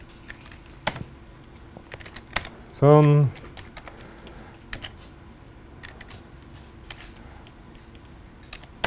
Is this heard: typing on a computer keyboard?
yes